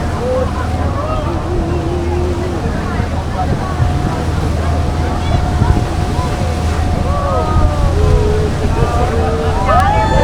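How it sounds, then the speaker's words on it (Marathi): Heavy rushing water of the Rhine Falls in Switzerland, heard from a boat close below, a loud continuous roar and wash mixed with wind buffeting, with faint voices underneath. "इथे मात्र पाण्याचा फोर्स जाणवायला लागला."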